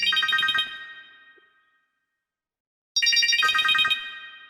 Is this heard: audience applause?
no